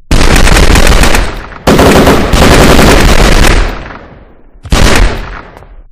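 Loud automatic gunfire from the video game The Last Stand Dead Zone, rattling in long close bursts that break off abruptly, then a final burst after a short lull.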